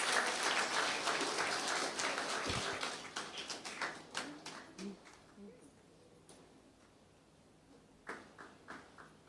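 Hearty applause for an award presentation at a Bhakti Gyan Yagya night, fairly close and dense at first, then thinning into a few scattered claps before a brief renewed burst near the end.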